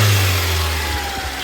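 A 1996 Mitsubishi Mirage Asti ZR engine running with its air intake removed, giving a loud, close, raw mid-pitched drone held at steady revs with a slight rise and fall.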